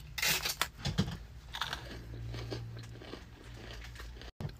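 Close, loud crunching bites of crisp freeze-dried ice cream sandwich from a candy shop, several sharp crackling chomps in the first second and a half, then softer chewing and crinkling for a few seconds.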